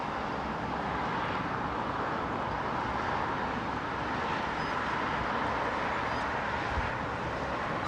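A Qantas Airbus A380 airliner lands at Heathrow, heard as a steady, fairly distant broadband jet roar that holds evenly throughout without distinct changes.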